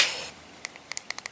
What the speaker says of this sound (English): Most important is it makes a nice clicking sound.